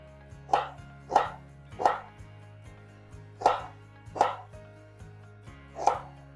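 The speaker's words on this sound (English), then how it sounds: "slicing is really easy" A knife slicing onions on a cutting board for a crockpot French onion pot roast, with six crisp, evenly spaced cuts close by against a faint steady hum.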